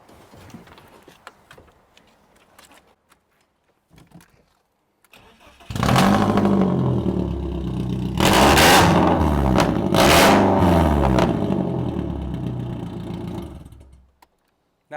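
A drift car's engine cranks and fires up loudly after a quiet stretch, then revs hard in several sharp bursts before settling into a rough, rowdy idle and cutting off near the end.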